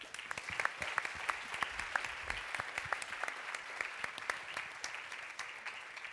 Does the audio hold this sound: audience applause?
yes